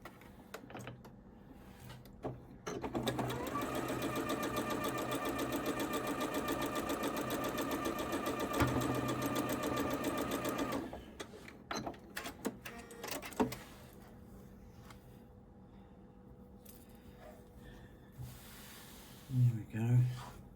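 A sewing machine runs in one long steady burst while stitching quilt blocks, a dense even whir lasting several seconds, then stops and is followed by fabric handling clicks and a person talking.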